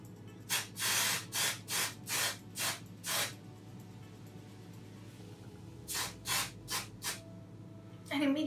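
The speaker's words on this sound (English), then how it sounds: "And I will start spraying." A series of short hissing spray bursts, about six in quick succession, a pause, then three or four more, close to the microphone.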